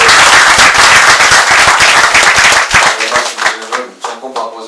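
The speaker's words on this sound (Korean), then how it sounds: "박수 한번 크게." An audience at a Korean political talk event claps loudly, a dense burst of hand claps that thins into scattered, fading individual claps near the end.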